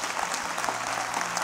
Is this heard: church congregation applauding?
yes